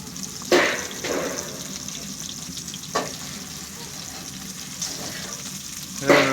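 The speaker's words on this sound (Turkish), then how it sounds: "Daha kızarmadı, kızarmadı. Kızarsın onları." Fish frying in a pan gives a low, steady sizzle, punctuated by a few sharp clatters and bumps of utensils, heard close with no speech.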